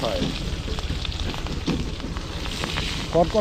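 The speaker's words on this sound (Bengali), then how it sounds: "ভাই নির্মল আগুন দেখ আগুন আগুন" Crackling outdoor fire at a picnic, with popping and a steady roar, heard under lively nearby conversation and occasional wind buffeting.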